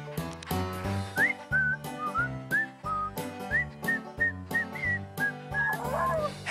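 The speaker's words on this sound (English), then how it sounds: "Would you mind if I taught you a whistling song?" Someone whistles a cheerful song melody with a clear, bright tone over steady musical backing, the notes short and rhythmic, sliding up and down through the tune, loud and close.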